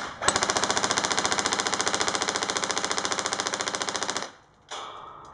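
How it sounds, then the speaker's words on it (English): A wound airsoft gun fires a rapid, steady stream of BBs, a loud mechanical rattle of evenly spaced shots lasting about four seconds before stopping abruptly, followed by a brief faint sound. "That was a steady stream of BBs."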